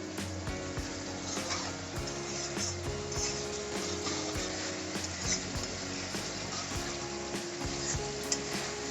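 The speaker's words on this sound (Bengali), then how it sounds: "মশলাটাকে আমি ভালো মতো কষাতে হবে" Masala spices sautéing in oil in a pan for a Bengali tel koi fish curry, a steady close sizzle and frying crackle with occasional stirring scrapes and clinks, no talk.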